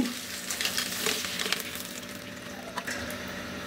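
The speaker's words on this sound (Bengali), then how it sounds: "ডিমগুলা পছন্দ মতো ভাজা হইলে আমি তুলে ফেলি" Eggs sizzle in hot oil in a pan for a cauliflower and egg curry, a continuous close crackle broken by a few scrapes and clinks from stirring. Nobody speaks.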